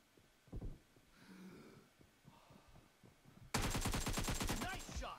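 Rapid automatic gunfire in a first-person shooter video game bursts out loudly in the final seconds, following quieter scattered shots, thumps and faint breathing earlier.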